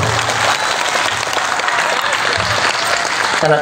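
A large audience at a Bageshwar Dham religious gathering claps loudly and continuously to welcome the daughters, a dense, close roar of applause with faint voices mixed in.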